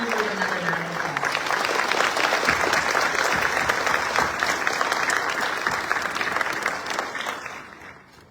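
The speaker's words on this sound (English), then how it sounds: "Let's give that one another round of applause." An audience at a military family scholarship award ceremony claps for a scholarship recipient, a dense, sustained round of applause that holds steady before fading out near the end, with some faint voices mixed in.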